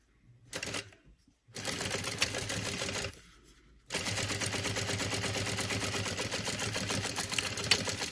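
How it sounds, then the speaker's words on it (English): A sewing machine stitches across the top of a zipper in bursts: a short run, a pause, a longer run, a quieter stretch, then a sustained fast rattling run of stitching, close and loud. "Okay, you're going to stitch across the top of your zipper."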